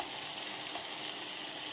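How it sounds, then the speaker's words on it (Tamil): Ginger and garlic sauté in a hot pan for vada curry, giving a continuous close sizzle and crackle with no talk over it. "நல்லா வதக்கிக்கோங்க. இப்போ பாருங்கள் இஞ்சி பூண்டு வச்சுருக்கேன்"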